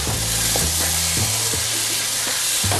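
Mutton pieces stir-fried Kerala style with garam masala and fennel powder, a steady loud sizzle broken by regular scraping stirs of a spoon against the pan.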